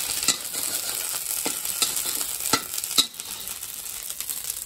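Frying in a pan while cooking egg noodles, with a continuous hiss of sizzling oil and a regular series of sharp clinks and scrapes as a utensil stirs the pan.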